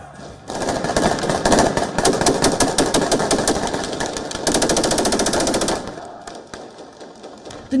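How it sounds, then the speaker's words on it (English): Rapid bursts of automatic gunfire fired into the air at an outdoor procession by masked gunmen with heavy weapons. The shots rattle loudly and almost continuously for several seconds before stopping. "Masked gunmen wielding heavy artillery were part of the procession as they fired gunshots"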